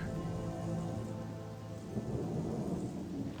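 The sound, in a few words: rain in video game Gothic Chronicles of Myrtana: Archolos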